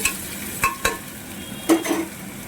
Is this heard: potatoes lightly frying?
yes